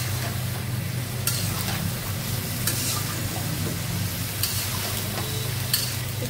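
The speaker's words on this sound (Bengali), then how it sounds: "একটু পেঁয়াজগুলো ভাজা হয়ে গেছে, আমি দিয়ে দেবো মুরগি।" Chicken pieces frying with onions in a pan, a steady soft sizzle under a low hum, broken by a few sharp stirring scrapes at intervals.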